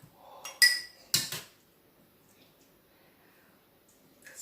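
A ceramic bowl and dishes clink and clatter in a few sharp knocks while pork and chickpea stew is served in a kitchen, followed by quiet handling.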